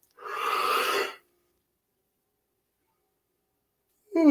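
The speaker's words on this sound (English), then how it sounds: "You're going to fake a yawn, but that's just as good." A deliberately faked yawn: one breathy exhale of about a second, close and alone, then silence until a brief voiced sound right at the end.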